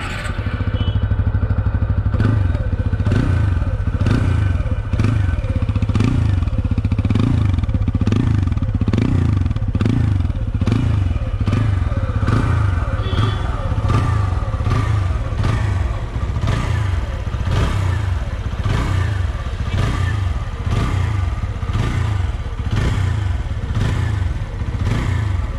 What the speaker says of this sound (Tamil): ஒரு இன்ஜின் சவுண்டு